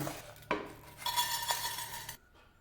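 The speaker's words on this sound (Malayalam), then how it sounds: "ഇനി നമുക്ക് തണുക്കാനായിട്ട് വേറൊരു പാത്രത്തിലേക്ക് മാറ്റി വയ്ക്കാം" A metal spoon scrapes and clinks against a pan as fried spices are moved into another dish, followed by a steady rustling scrape that stops abruptly.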